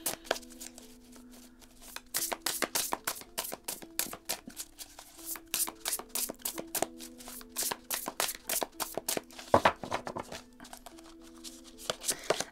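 Oracle cards are shuffled by hand for a tarot-style reading, a dense run of crisp, close riffling flicks and slaps that keeps going steadily and loudly throughout, with no talking.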